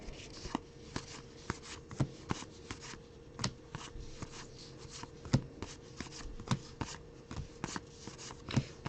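Baseball cards being sorted by hand from a pile, crisp flicking snaps and slaps of card stock landing one after another in an uneven quick rhythm, close and fairly quiet, with no talking.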